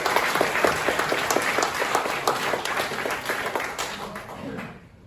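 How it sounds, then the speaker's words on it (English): Audience applause for startup founders at a pitch day event, a dense steady round of clapping from a room of people that carries on for several seconds before fading out at the end. "So can I just get a round of applause for all of you?"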